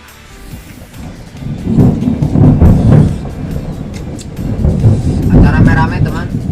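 Thunder rolls in two long, heavy swells during a storm, loud and booming with wind buffeting the microphone and rain in the background.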